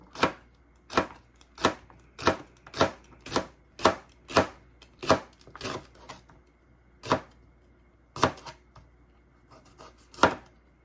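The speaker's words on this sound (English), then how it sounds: "cut the jalapeno" A knife chops a jalapeno on a cutting board for pho topping, sounding as a steady run of sharp, close, evenly spaced thuds that pause and resume with a few scattered final cuts; no talking.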